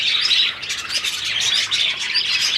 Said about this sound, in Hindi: और ये देखिए मेरे सारे बर्ड्स बैठे हुए हैं।